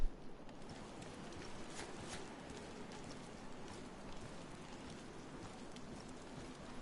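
Rain in the video game DayZ, a faint, even hiss of falling drops that runs without a break, with a few soft taps and no talk.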